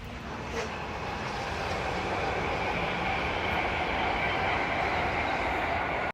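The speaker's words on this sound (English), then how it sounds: "I did just see a train." Train passing along the Thames Path, a steady broadband rumble with faint rail noise at moderate distance, continuous throughout with no talk.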